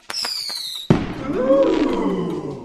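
A single loud burst like a firework going off, stepped in by a falling whistle, then a sharp bang followed by a rumbling, roaring tail that holds steady to the end.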